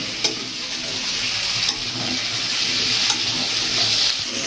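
Vegetable chorchori fries in a pan with a steady close sizzle, broken by a few soft scrapes of stirring and no speech.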